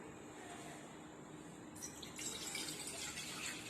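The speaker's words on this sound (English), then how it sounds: "So now I am pouring water" About one big glass of water is poured for cooking Maggi noodles, a quiet, steady splashing flow that grows a little fuller and brighter partway through, heard alone without talk.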